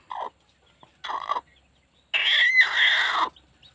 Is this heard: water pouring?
no